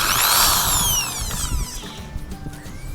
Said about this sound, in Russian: Держи дрель прямо, ровно, да.